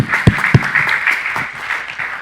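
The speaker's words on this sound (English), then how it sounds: "give a round of applause for Dr." A crowd at a wellness talk on Ayurveda gives a doctor a round of applause, with steady, moderately loud clapping and a couple of heavier thumps near the start.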